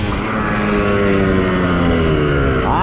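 New 1995 Yamaha YZ 250 two-stroke motorcycle engine running loud and close, a steady dense drone with a rising rev at the very end.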